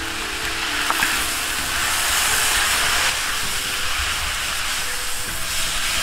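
Rice noodles stir-fried in a wok with garlic, soy sauce, oyster sauce and dark soy give a steady, close, loud sizzle and hiss that runs without a break under faint clattering.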